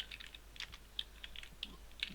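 Quiet, steady typing on a computer keyboard, a run of light key clicks with a few sharper taps, close and alone with no talking.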